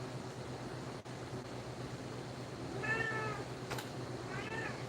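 A cat meows twice, faint and a little distant, over a steady hum of background noise.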